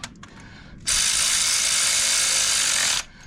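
A power ratchet snugs down the bolts on a Motorad FailSafe thermostat housing, giving one sustained, close buzzing whir of about two seconds after a few faint clicks.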